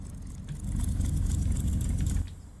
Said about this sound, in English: That thing's idle is loud. And we'll go into the tunnel, so it's amplified.